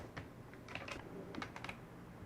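Keys tapped on a computer keyboard fitted with special aids, a quiet, irregular run of light clicks and taps heard close up with no talking.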